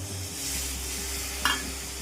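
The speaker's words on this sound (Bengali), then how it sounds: "এবার সামান্য জল দিয়ে দেবো।" Spice masala sizzles steadily in a pan while cooking mourola fish curry, with a brief louder splash-hiss as a little water is poured in near the end.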